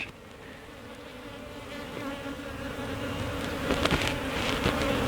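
Steady buzzing of honeybees around a hive, close by and continuous, growing slightly louder with a few nearer passes over a low background hum.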